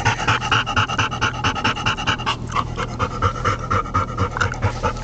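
A dog pants rapidly and steadily right up close, a fast rhythmic breathy huffing that continues without pause, loud and clear.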